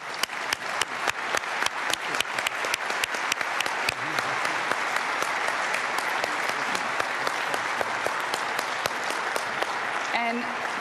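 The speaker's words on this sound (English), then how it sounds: "please join me in giving a big round of applause to our panelists" Enthusiastic applause from a lecture audience in Geneva for a panel on internet governance, dense sustained clapping that fills the room, with a voice beginning to speak faintly near the end.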